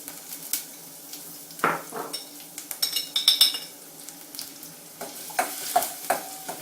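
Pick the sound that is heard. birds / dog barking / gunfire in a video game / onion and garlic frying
onion and garlic frying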